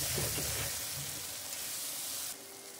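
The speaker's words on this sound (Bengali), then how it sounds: "এবার এটাকে খুব ভালো করে ভাজবো।" A spiced shrimp paste mixture with garam masala and tomato sauce fries in a pan with a steady, close sizzle, and its tone shifts slightly near the end, with no talking.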